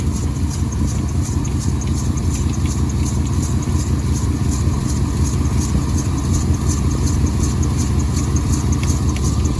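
A car engine runs to charge a dead battery during a jump-start, a loud, close, even mechanical drone with a fine clattering texture and no clear surges in pitch or volume.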